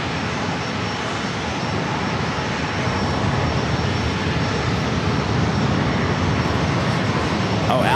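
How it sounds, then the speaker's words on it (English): A Southwest Airlines Boeing 737 MAX 8 arriving from Sacramento at San Diego airport produces a steady, loud broadband jet roar that holds evenly throughout. "Next arrival is Southwest Airlines flight 4344 coming in from Sacramento, a 737 MAX 8."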